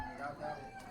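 Chickens in a Lao village, a rooster crowing over clucking hens with a faint voice in the background, quiet and brief.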